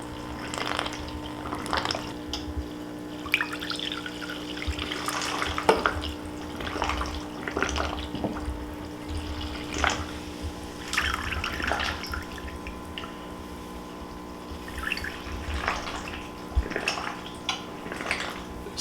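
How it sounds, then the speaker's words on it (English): Lemon balm hydrosol from hydro distillation poured into a glass bottle, a run of trickling, dripping and splashing liquid with small bright plinks, steady and close, no voices. "Going to pour in the glass bottle so you can see clearly."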